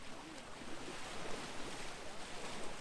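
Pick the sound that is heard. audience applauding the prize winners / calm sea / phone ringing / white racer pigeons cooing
calm sea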